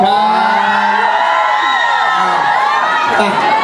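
A large crowd cheers and shouts continuously, loud and sustained, with whoops rising above the roar; clapping is not clearly distinct.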